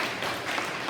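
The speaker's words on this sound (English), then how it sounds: "Give yourselves another big round of applause" Children applaud themselves at a school celebration assembly, a brief burst of broad, washy clapping from a crowd of young voices' hands, loud and continuous with no talk.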